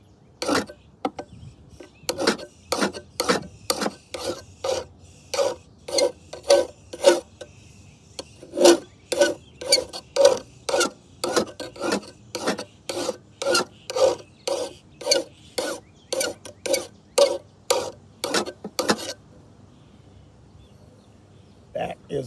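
A file is pushed in one direction along the bevel side of a Homelite electric lawnmower blade, about thirty close, evenly spaced rasping strokes in a steady rhythm with a brief pause, then quiet at the end.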